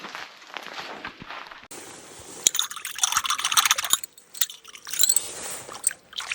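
Dishes get rinsed outdoors in water from a spring, with soft splashing, trickling and the clink and scrape of wet items in close, irregular bursts, fairly quiet overall.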